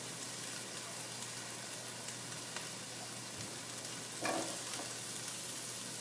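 Onions and carrots sizzling in hot oil in a pan for an Asian chicken pasta dish, a steady soft frying hiss throughout with a brief louder crackle near the end, no voices.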